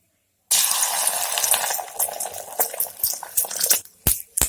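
Beaten egg for an omelette hits hot oil in a kadai after a moment of silence, bursting into a sudden loud sizzle that crackles and bubbles, then settles into uneven spitting pops.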